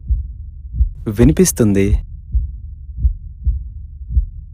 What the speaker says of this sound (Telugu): నీ గుండె చప్పుడు నీకు వినిపిస్తుందా?